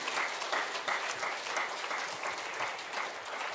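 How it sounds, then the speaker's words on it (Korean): A church congregation at a Sunday afternoon worship service claps together in an even, moderately loud round of applause that holds steady throughout without cheering or talking. "다시 한번 큰 박수로 격려해 주시기 바랍니다"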